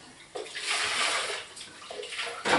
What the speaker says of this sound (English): I immediately carry this over to the sink and rinse it out.